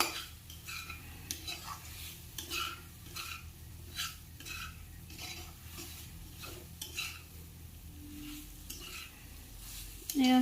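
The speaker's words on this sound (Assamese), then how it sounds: "গেছৰ ফ্লেমটো ল' কৰিয়ে ভাজিব" Elephant apple and spice mix frying in a pan over a low gas flame, giving a steady soft sizzle with repeated scraping stirs of a spoon, faint and close, no voices.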